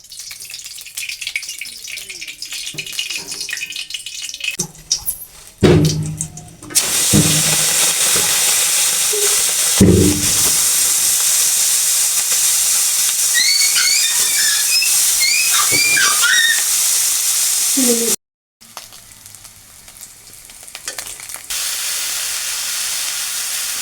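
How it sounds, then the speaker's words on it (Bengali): Sweet gourd frying in a pan, a loud, steady broadband sizzle and hiss lasting most of the clip, broken by a few clatters and one abrupt cut. "আমি রান্না করছি মিষ্টি লাউ ভাজি মিষ্টি লাউ তরকারি রান্না করবো"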